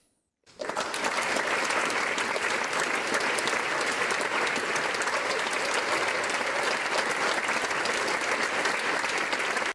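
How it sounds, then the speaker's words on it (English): Applause, played when attendees press a virtual applaud button on their laptops during an online economics lecture, starts suddenly and then holds as dense, even crowd-style clapping, loud and continuous. "And now we are used to pressing the applaud button on our laptops."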